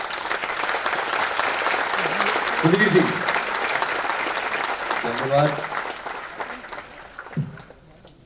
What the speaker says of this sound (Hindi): एक बार आज की शाम की सबसे गड़गड़ाती हुई, सबसे जरा तड़तड़ाती हुई तालियां हो जाए